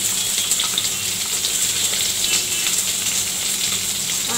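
Chopped onion and ginger sizzle steadily in hot oil for a curry, a dense, continuous crackling hiss close by with no talking.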